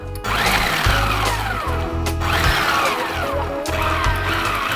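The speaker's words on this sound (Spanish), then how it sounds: "Cierra el robot y ahora lo vas a ir mezclando dándole pequeños toquecitos solo para mezclar." Food processor pulsing to mix walnuts, curry powder and flour, loud close motor whirs in four short bursts that rise in pitch and cut off, with brief gaps between, no voices.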